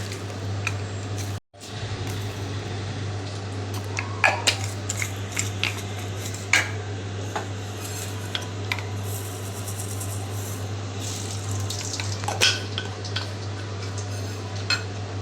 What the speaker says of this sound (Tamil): எண்ணெய் சூடானோடனே கடுகு வெந்தயம் போட்டு பொரிய விட்டுக்கலாம்